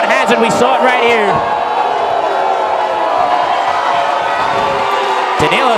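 Crowd cheering in a high school gym during a boys varsity basketball game between J.P. Stevens and Edison, a loud continuous roar of voices with whoops, under an announcer talking.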